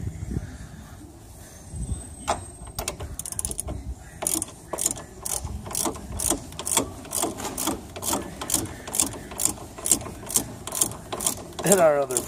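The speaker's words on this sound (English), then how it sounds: "We're gonna tighten up the ball joint nut." A ratchet tightens the ball joint nut on the upper control arm of a 1999 Ford Expedition, with a long series of evenly spaced, close clicking strokes after some earlier handling clanks.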